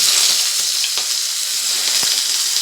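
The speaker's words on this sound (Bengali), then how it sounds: "গরম করার পরে এখানে আদা রসুন কুচানোগুলো দিয়ে দেব" Chopped ginger and garlic hit hot ghee for a chicken manchow soup, giving a loud, close, unbroken hiss of frying with a couple of faint spoon knocks and no speech.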